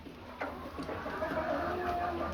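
Chickens cluck and call softly in a hay-bedded barn pen on a farm, with a few sharper calls standing out over a quiet background.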